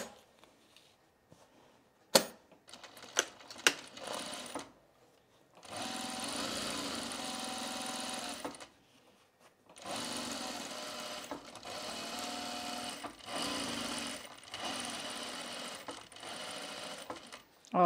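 A home sewing machine stitches an oven mitt seam in several separate runs, each a steady, close mechanical whir lasting a few seconds, broken by short pauses and small clicks of handling and fabric adjustment, with no talking.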